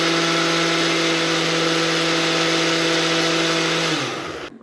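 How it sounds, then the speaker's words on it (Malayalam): An electric blender whirs loud and steady, blending a mango and banana shake with sugar, close up, then winds down and cuts off at the end. "ഇപ്പോൾ ഫ്രണ്ട്സ് ഇത് നമുക്കൊന്ന് അടിച്ചെടുക്കാന്നേ"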